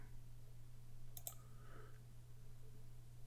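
A single computer mouse click sounds in Microsoft Word 2016, a sharp, faint double tick against a quiet background hum.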